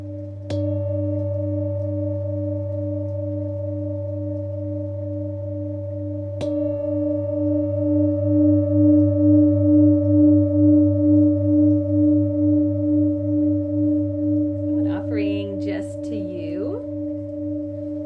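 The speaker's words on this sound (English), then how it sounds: "Today I brought with me my Tibetan singing bowl, so we'll begin just with a little bit of sound vibration." A Tibetan singing bowl is struck twice, leaving a long, sustained, pure hum with slow pulsing waves. A soft voice enters near the end.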